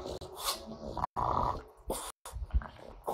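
A French bulldog puffs out several short, close snorts and grunts of its breath in uneven bursts, broken by brief pauses.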